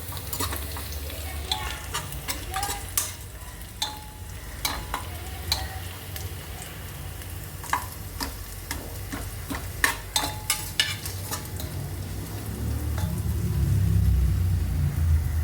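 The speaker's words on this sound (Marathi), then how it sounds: "त्याच्यामध्ये ना तिनं कांदा टाकलाय, थोडे खडे मसाले पण टाकून घेतले." Onion and whole spices frying in oil for masala rice, a steady sizzle broken by frequent sharp clinks and scrapes of a stirring spoon against the pan, with a low rumble swelling near the end.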